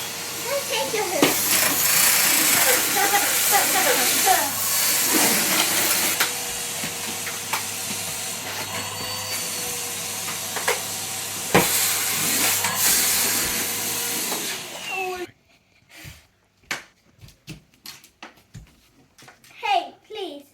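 A Henry Hoover vacuum cleaner runs with a steady whooshing roar for most of the stretch, children talking and shouting over it, then it shuts off and only their chatter and knocks remain.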